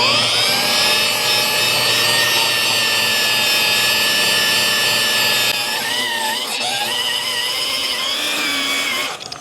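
A SeeSii corded polisher runs steadily and close, a loud continuous motor whine holding for several seconds, then wavering in pitch near the end as the load changes, with no talking.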